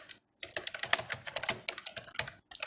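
Rapid, close clicking of a computer keyboard as HTML code is typed, in dense bursts with a brief pause near the start and no voices.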